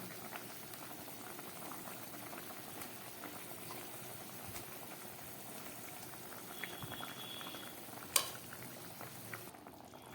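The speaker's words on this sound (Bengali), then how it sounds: "মাছের ঝোলটাও ফুটে উঠেছে" A pot of thin bata fish curry with potatoes boils steadily, a continuous bubbling simmer with a few brief clinks near the end and no voices.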